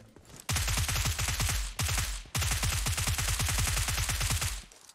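Loud, rapid automatic gunfire from PUBG on the Karakin map, with two sustained bursts of dense shots separated by a brief pause. No voices are heard.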